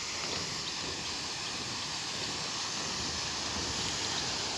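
Tad waterfall near Pakxong in Champasak, Laos, heard from a viewpoint as a constant, broadband roar of rushing water, steady and unbroken with some wind buffeting the microphone.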